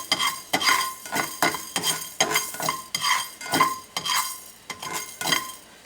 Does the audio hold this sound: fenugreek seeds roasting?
yes